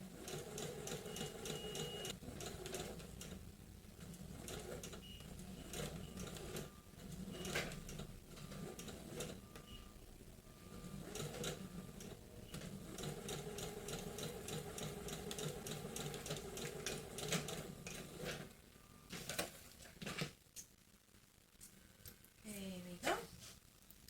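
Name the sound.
sewing machine stitching bias tape on a garment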